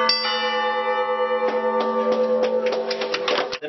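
Church bells ring at midnight in western Pennsylvania, a sustained resonant peal with overlapping strikes that grow quicker and denser toward the end, loud and near.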